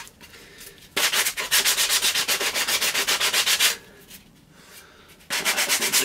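Rough sanding by hand on the edges of a humanoid robot part, fast rhythmic back-and-forth strokes in two bursts with a short pause between, close and fairly loud.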